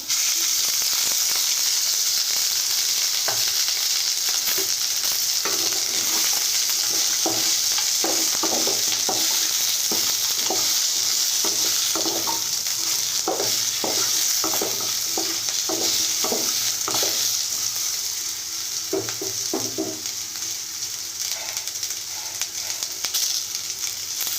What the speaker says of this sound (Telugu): అదే కడాయిలో ఉల్లిపాయ వేసుకోవాలండి కొద్దిగా ఆయిల్ వేసుకోవాలా